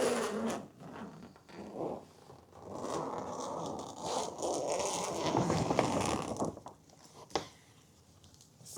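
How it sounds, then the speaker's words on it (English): A heavy-duty zipper on a grow tent door is pulled open in several long rasping strokes, close by, with short pauses and a sharp tug near the end. "Heavy-duty zippers."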